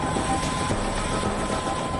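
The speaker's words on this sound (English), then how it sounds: "The Chinook helicopters are virtually worth their weight in gold, quickly moving men and material to different locations." A Chinook military helicopter drones steadily overhead, its continuous rotor and engine roar loud and unbroken with no pauses.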